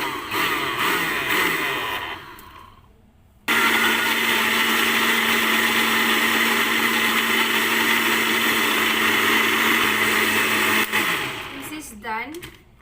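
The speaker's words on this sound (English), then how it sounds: "Now we have to grind it into paste." A kitchen blender whirs steadily, grinding cooled cooked ingredients into a fine paste for paneer butter masala, with a short pause and restart before the motor runs loud and continuous, then winds down.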